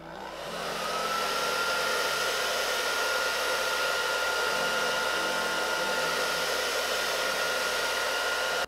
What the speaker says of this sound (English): So I'm gonna blow dry this on cool.